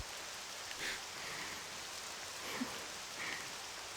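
Soft, steady rainfall in the video game Octopath Traveler II forms a faint, even hiss with a few slightly louder patters, with no voices.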